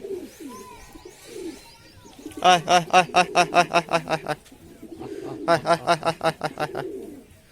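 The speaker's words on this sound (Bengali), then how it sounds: "কবুতর দুটো খুবই ডাকাডাকি করছে" Giribaz pigeons coo nearby in two rhythmic bursts of rapid throaty pulses, with a person talking quietly before and between them.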